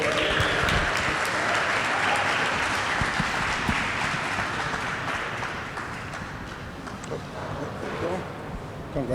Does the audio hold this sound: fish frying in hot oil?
no